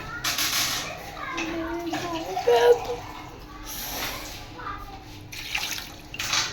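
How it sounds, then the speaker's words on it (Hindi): Water splashes and gurgles as half a kilo is poured into a pressure cooker for desi chicken curry in uneven bursts, with voices speaking nearby. "किलो पानी डाल देंगे और लगा देंगे कुकर पे"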